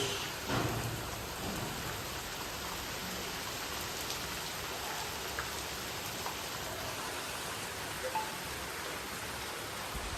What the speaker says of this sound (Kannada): ಮಳೆ ನೋಡ್ರಿ ಮಳೆ.